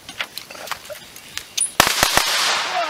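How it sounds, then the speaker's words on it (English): Firecrackers bang in a quick burst of four or five sharp, loud cracks on a Fourth of July outing, preceded by fainter scattered pops and followed by a lingering hiss of smoke and debris. "What? Fireworks?"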